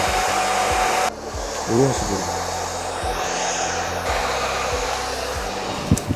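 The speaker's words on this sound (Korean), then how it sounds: "이 드라이기 바람이 나오는 방향을 똑같이 평행으로 맞춰주셔야 돼요." A handheld hair dryer blows a steady, loud, close roar across a wig being styled, with the airflow shifting briefly as it is moved; someone speaks a few words over it.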